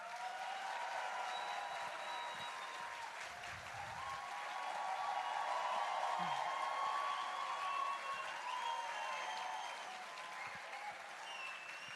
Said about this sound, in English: A big applause to Sadhguru.